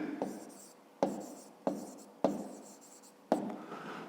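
A pen or pencil writes out a math answer on paper: five distinct scratchy strokes with short pauses between them, close and quiet, with no talk.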